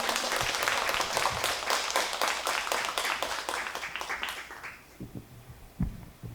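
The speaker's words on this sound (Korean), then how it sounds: "최미영 선생님이 나오는데 박수 한번 보내드릴까요?" An audience at a Cheoyongmu dance lecture-performance claps in a full, dense burst that thins out and fades to a few scattered claps near the end.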